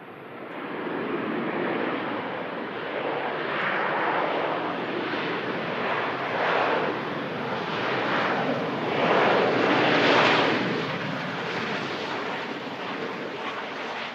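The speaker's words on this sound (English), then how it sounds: "Nice smooth landing there from the Ryanair 737." A Ryanair Boeing 737 lands, its engines roaring steadily and broadly for about fourteen seconds, loud and fairly close, with a slight rise in the middle and no voices.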